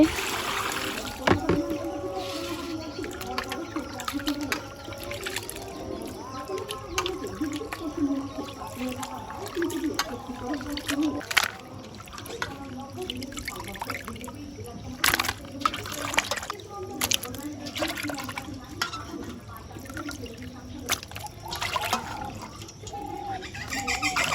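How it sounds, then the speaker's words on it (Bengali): Cut fish being washed by hand in water at a village kitchen, with steady sloshing and trickling splashes running throughout, birds calling in the background and voices talking at times. "তো এই যে মাছ কাটা হয়ে গেছে, এখন মাছগুলো ধুয়ে নিতেছে।"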